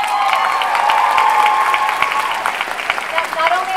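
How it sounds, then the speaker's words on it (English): Comic Con audience at a Supergirl panel applauding a new cast member: dense, continuous hall-wide clapping with some crowd noise, while a voice carries on over the top throughout. "we get a round of applause for Odette,"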